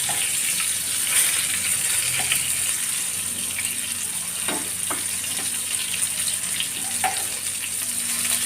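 Fish 65 pieces frying in hot oil make a steady, hissing sizzle with occasional light pops and clicks, continuous and fairly loud throughout.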